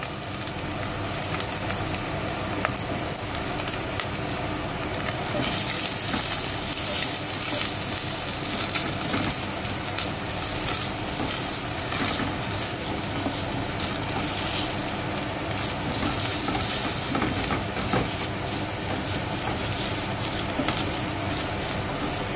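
Chopped onion frying in a hot pan, a steady broadband sizzle that brightens and grows louder partway through as the onion spreads out, with soft stirring scrapes throughout and no talking.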